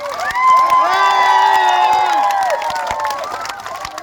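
An election rally crowd cheers and shouts loudly, with sustained whooping voices and some clapping blended in, swelling early and tapering slightly toward the end.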